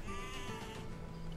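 A sheep in the Age of Empires II video game gives one short, wavering bleat, set against a faint, hissy game background.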